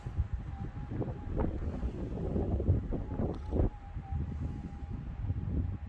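Gusty wind in the Western Australian goldfields buffeting the microphone in low rumbling surges, steady throughout with no voices.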